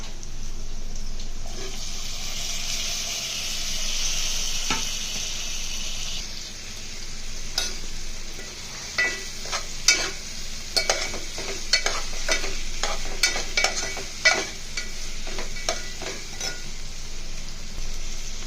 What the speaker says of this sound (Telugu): బెండకాయ ముక్కలు మధ్యలాగా ఇలా కలుపుకోవాలి ముందుగా కట్ చేసి పెట్టుకున్న టమాటా ముక్కల్ని యాడ్ చేసుకుంటున్నాను